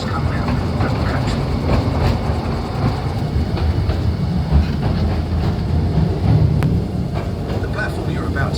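Royal Mail Rail underground Post Office Railway train in London running through its tunnels, a loud steady rumble with rhythmic wheel clatter throughout, with voices audible over it.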